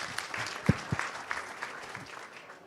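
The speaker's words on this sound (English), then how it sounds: "give these guys one more round of applause" A small audience at an Atlanta cybersecurity conference panel gives a final round of applause. Scattered, sparse claps thin out and fade toward silence.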